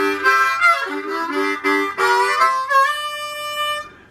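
A harmonica plays a work-song melody, close and loud, with bent held notes in short breathy phrases ending on a long sustained chord, no voice.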